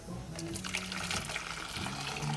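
Boiled water pours and splashes continuously into a bucket at a moderate distance, with a soft trickling texture throughout.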